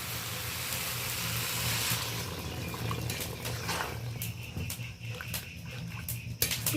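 Hot water is poured into a pot of katla fish curry with pointed gourd and potatoes, giving a steady rushing, bubbling wash that thins out toward the end into scattered clinks and bubbling.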